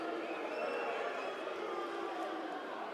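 Crowd at a championship basketball game hollering after a player hits the deck, Caledonia versus Newcastle: a sustained roar of many voices, steady and fairly loud throughout.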